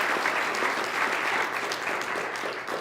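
Church audience at a spiritual service gives a sustained round of applause, an even, dense patter of many hands clapping at moderate distance, continuing without pause.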